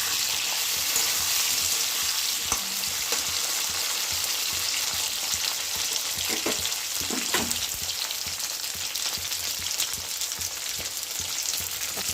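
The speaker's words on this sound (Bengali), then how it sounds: "এরপরে আমি স্লাইস করে রাখা টমেটোগুলো দিয়ে দিচ্ছি।" Sliced tomatoes fry in a pan for a vegetarian banana-flower and mung dal dish, giving a continuous, even sizzle close by with a few faint stirring knocks and no talking.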